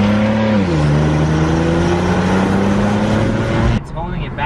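A raspy BMW 135i N54 exhaust with catless downpipes and muffler delete drones and revs with rising and falling pitch, loud and close, then cuts off sharply near the end.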